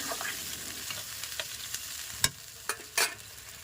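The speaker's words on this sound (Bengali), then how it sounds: "এবার মশলার জলটাই দিয়ে দেবো তো আবার দুবার নেড়ে চেড়ে নেবো" Spiced water poured into fish masala in a pan and stirred, a low continuous sizzle broken by a few sharp spatula knocks and scrapes near the end, close up with no voices.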